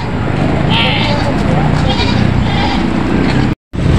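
Goats bleat in short wavering cries at the Lucena livestock auction market, where cattle are also handled. A couple of loud calls rise over a constant noisy backdrop of people talking and crowd bustle.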